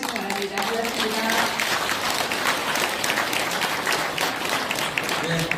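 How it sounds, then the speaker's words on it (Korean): Sustained, loud applause from an audience at a Democratic Party district event in Gwanak, clapping for the supreme council member Ko Min-jung, a dense even roar of many hands with a voice briefly audible at the start. "다시 한번 고민정 최고위원님께 큰 박수 부탁드립니다"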